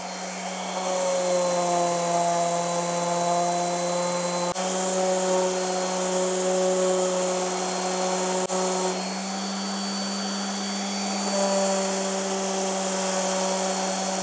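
A power tool sands a wooden workpiece carved with lettering, giving a steady, loud mechanical whine with a bright harmonic ring that runs almost unbroken, with only brief dips and shifts in pitch.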